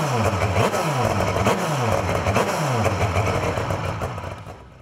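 A Crighton CR700W limited-edition motorcycle with a rotary engine runs close by, revving repeatedly in rising sweeps, a smooth buzzing drone that climbs and drops several times before easing off.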